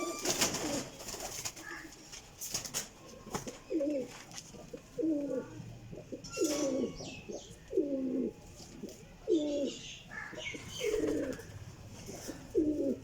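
Pigeons coo nearby in a steady series of about ten low, throaty phrases, one every second or so, with faint chirps and background noise between them.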